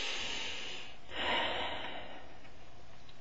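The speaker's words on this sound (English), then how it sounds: "And then you want to take a deep breath." One deep breath is drawn in, close and audible, a soft airy rush swelling briefly then fading into quiet room tone.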